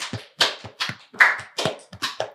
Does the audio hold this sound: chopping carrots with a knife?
no